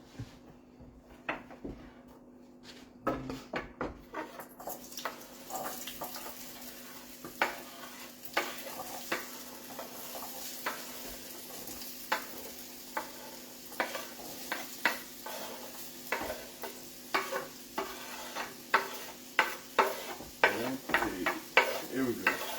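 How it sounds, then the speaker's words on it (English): Diced potatoes fry in oil in a skillet, a soft crackling sizzle under rhythmic scraping and tapping of a utensil turning them, growing busier and louder toward the end. "my son is going to add those diced potatoes to the skillet"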